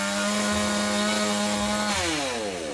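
A chainsaw cuts into a slime toy, its engine running loud and steady at close range, with the pitch dropping near the end as it bites into the material; no talk.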